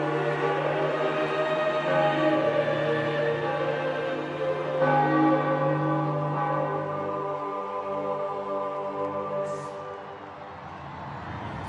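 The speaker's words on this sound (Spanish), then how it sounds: "pronto comienzan a sonar las campanas" Church bells ring out in Rome as the new Pope is announced after the conclave, a dense, sustained wash of overlapping tolls that sounds loud and continuous throughout.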